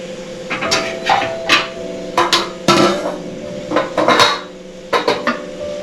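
Metal steamer plate set down into a steel pot while making corn-spinach muthiya, a run of loud close clatters and clinks in irregular bursts, no talk.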